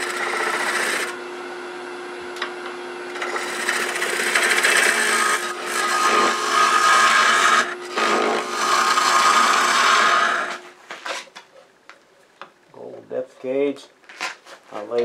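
Bowl gouge cutting a cherry wood bowl on a lathe, a steady loud scraping hiss over a motor hum for about ten seconds, then the machine winds down into quieter scattered knocks.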